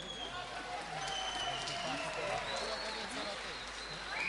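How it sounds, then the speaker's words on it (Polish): An audience claps for the oldest dancer of the Bartuś Obrochta folk ensemble from Zakopane at a folk festival, a soft, steady spread of applause heard from some distance, with crowd murmur and voices mixed in. "Brawa dla niego!"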